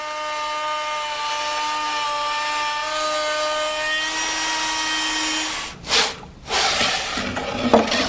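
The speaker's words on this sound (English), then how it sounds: "Clamp the disc to the template and zing away the waste with a trimmer" A handheld trimmer router cuts waste wood from a disc clamped to a template, whining at a steady high pitch for several seconds before stopping, followed by a few rough bursts of cutting and rubbing.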